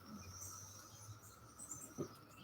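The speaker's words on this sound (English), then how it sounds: "with all these cicadas, can you guys hear a din?" Cicadas drone outdoors in a steady, faint, high-pitched din that continues without a break, with a couple of soft small sounds underneath.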